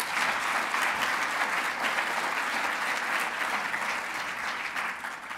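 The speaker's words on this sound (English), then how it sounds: "if you could just give them another round of applause" An audience at an education leaders summit applauds, steady dense clapping from many hands filling the hall at an even level throughout, with no voices over it.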